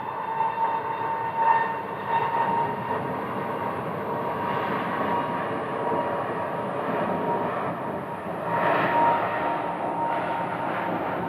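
A nearly new Southwest passenger jet departs Phoenix Sky Harbor airport, its engines giving a steady, broad roar heard from a distance that swells slightly near the end.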